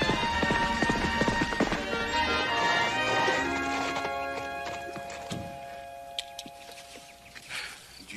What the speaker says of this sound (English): This horse is going to take a whole lot more work before he's ready for Clancy.